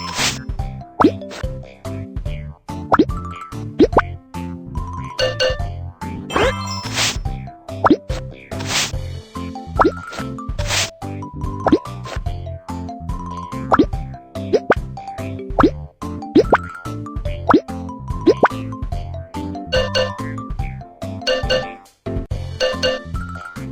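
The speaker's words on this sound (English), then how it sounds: "Let's build the brick wall first." Brick wall building in a Baby Bus city-building video game: a quick string of cartoon plops, dings and tinkles over light game music, with no voices.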